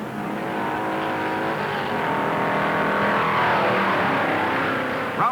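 1958 stock race cars racing at the Southern 500, a steady loud roar of engines building and sweeping past, continuous without speech.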